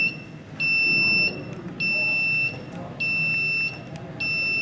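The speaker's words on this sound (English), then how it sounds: "We should have this alarm go off here anytime soon." A clean room display alarm sounds with a loud, repeating electronic beep in four evenly spaced pulses, each lasting under a second, over a low background hum.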